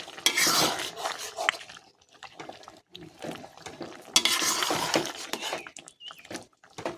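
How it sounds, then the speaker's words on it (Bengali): Green jackfruit chilli curry is stirred in a cooking pan after ground black pepper goes in, with a spoon scraping and clinking against the metal in irregular bursts, a faint sizzle underneath and brief quiet gaps. "গোলমরিচের গুঁড়োটা দিয়ে আবারও একটু নেড়ে দেবো"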